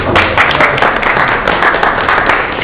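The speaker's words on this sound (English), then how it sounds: "let's all cheer and wish him the best of health" Crowd at a birthday celebration roast cheering and clapping, a dense steady wash of applause with scattered whoops filling the room for the whole stretch.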